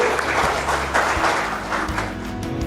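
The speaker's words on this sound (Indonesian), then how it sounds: "Kita berikan aplaus untuk beliau" Audience applause at an immunotherapy service launch event, a steady broadband wash of clapping lasting throughout, moderately loud and continuous without a break.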